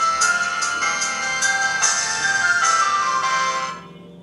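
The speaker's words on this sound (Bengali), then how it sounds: "তো আমরা সাউন্ডও শুনে দেখে নেব এই ফোনটির। তো ফোনটি চালু করে নিচ্ছি।" An Itel it 5071 feature phone plays its startup tune through its large loudspeaker, a loud, bright electronic melody of several rhythmic notes lasting about three and a half seconds before fading out.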